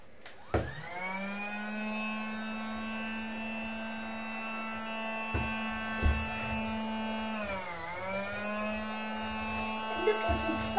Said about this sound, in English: So first, let's use the Dyson.